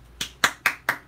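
Four sharp hand claps in an even rhythm, close and crisp, with quiet in between and no voices.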